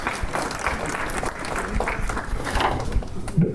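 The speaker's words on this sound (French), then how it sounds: "On peut applaudir à Norbert." An audience at a New Year's greetings ceremony in a lycée claps to welcome an arriving man, a short burst of mixed applause with crowd murmur and shuffling, fairly close and steady.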